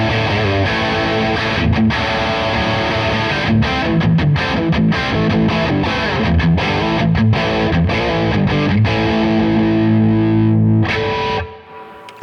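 A Heritage H150 with humbucker pickups plays through a Bad Cat Black Cat 30 Mark Sampson Edition amp: loud, heavily distorted, chugging riffs with chopped rhythmic stops, ringing steadily before cutting off abruptly near the end.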